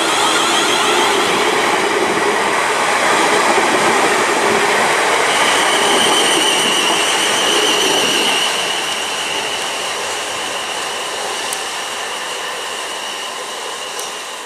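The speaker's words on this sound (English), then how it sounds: "departing now is the 12:12 South Western Mainline service to Lymington Pier" A South Western Railway train departs Brockenhurst station for Lymington Pier with a loud rushing rumble and whining hum that gradually fades as it moves off.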